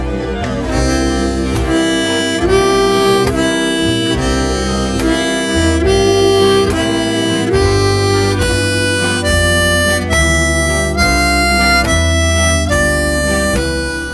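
A blues harmonica plays a middle-section pattern of bent draw notes and chordal blows, loud and close, moving in a steady rhythmic phrase with sustained wailing tones throughout.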